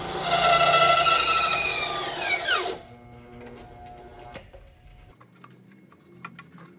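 An Einhell TC-SB 200 bench band saw cuts a 70 by 70 eucalyptus timber. Its loud, steady whine sweeps downward in pitch and stops after about three seconds, and faint clicks and handling noises follow in near silence.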